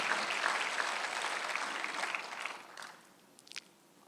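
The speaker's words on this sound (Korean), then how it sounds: "박수를 하세요" Applause from a Korean church congregation during a Sunday sermon, a soft wash of clapping that fades out after about three seconds, followed by a few faint scattered sounds.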